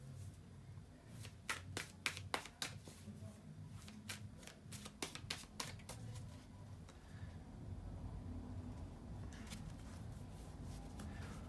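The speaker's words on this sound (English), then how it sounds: "bear with me a second, guys, to shuffle the cards" Tarot cards shuffled by hand close to the mic, a burst of crisp riffling flicks and taps in the first half, then fainter handling under a low background hum.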